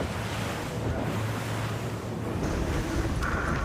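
Wind of about 14 to 15 knots blows over the sea during a sailing regatta off Puerto Portals, with white caps showing. It makes a steady, close roar of wind buffeting the microphone, mixed with breaking waves.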